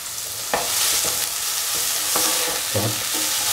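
Chopped green chili, tomatoes and eggs sizzle steadily in a frying pan, broken by several sharp scraping stirs of a utensil, close and clear with no talk.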